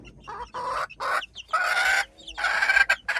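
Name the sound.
mother hen clucking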